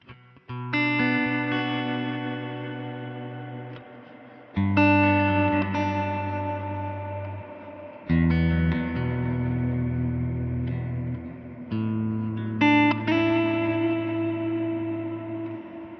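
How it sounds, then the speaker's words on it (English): A sustained, distorted guitar plays long chords in four phrases through a non-linear reverb into a tape echo, each swelling into a dense wash of reverb and repeating echoes that trail off before the next. "looks like it's a non-linear reverb going into a magneto."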